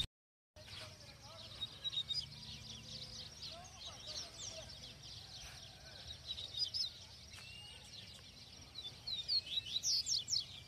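A coleiro (papa-capim) songbird sings bright, high chirping phrases in bursts, close and clear over a low background hum, with singing growing denser toward the end.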